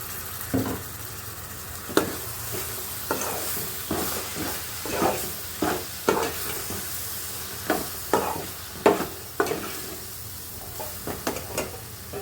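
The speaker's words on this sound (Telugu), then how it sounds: "ఇప్పుడు టమాటా ముక్కలు వేసేస్తున్నాను." Tomato pieces added to a hot pan sizzle softly in oil, with a series of sharp, irregular stirring scrapes and clacks over a low, steady frying hiss.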